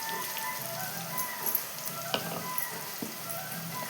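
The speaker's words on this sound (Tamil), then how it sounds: "இப்போது இஞ்சி பூண்டு பேஸ்ட்டு சேர்த்துக்கலாம்." Ginger garlic paste, ground with dried red chillies, sizzles steadily in a pan of sautéed vegetables for a veg dum biryani, a soft continuous crackle with a few sharper pops and stirring clicks.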